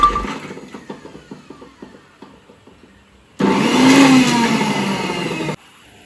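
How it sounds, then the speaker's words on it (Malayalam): After a few soft kitchen clinks and taps, an electric mixer grinder crushing garlic whirs loudly and close for about two seconds, then stops abruptly. "അതുകൊണ്ട് മിക്സിയിൽ ഇടിക്കാൻ പോകും."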